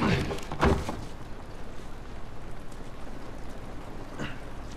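Steady rain in a video game, a dense even hiss that continues throughout, with a brief thud near the start and a short clatter toward the end.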